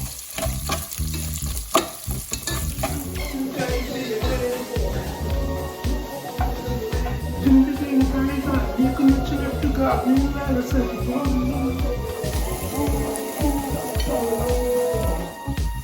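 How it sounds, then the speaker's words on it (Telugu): Onions fry in hot oil in a pan while being stirred, a steady close sizzle with scraping stir strokes, and a voice is faintly present underneath. "వేగిన తర్వాత మనం ఉల్లిపాయలు కూడా వేసేసుకొని కాసేపు"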